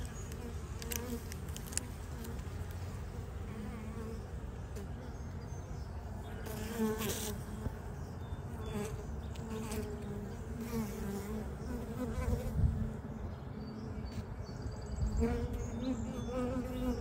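Honey bees buzz steadily around an open hive while frames are inspected, a dense continuous hum of many wings close by, with occasional louder passes of individual bees and no speech.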